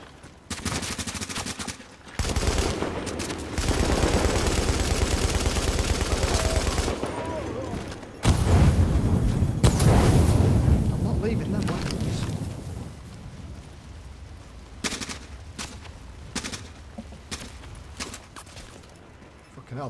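Automatic gunfire rattles in bursts during a firefight in Tom Clancy's The Division, loud and dense for several seconds at a time with short pauses between, while players talk over the shooting.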